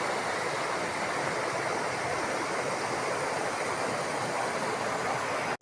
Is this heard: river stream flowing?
yes